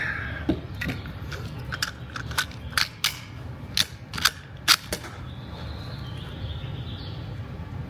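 A Ruger RPR .22LR rifle magazine is swapped out with a series of sharp plastic and metal clicks and snaps, close and fairly quiet, followed by a few seconds of low background hiss.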